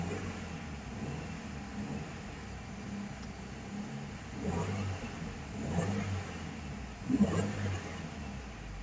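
A turbocharged 2.34-litre four-cylinder engine with a GTX3071R turbo runs steadily under broadband noise, with a few moderate revs surging in the second half, the last one briefly louder.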